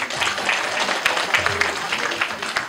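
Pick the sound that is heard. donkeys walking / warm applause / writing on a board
warm applause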